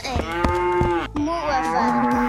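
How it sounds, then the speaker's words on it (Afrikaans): A cow in a children's toy-vehicle story moos several times, loud and close, with long drawn-out harmonic lowing calls broken by a short pause, alone without speech. "Kom aan, koei klim in."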